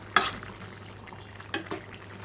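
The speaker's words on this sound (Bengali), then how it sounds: "এখন আমি একটু নেড়ে ছেড়ে মিশিয়ে দেব।" A spoon clacks and scrapes in a pan as cumin powder is stirred into an ash gourd and hilsa curry, one sharp clatter and then two softer ones over a low background hum.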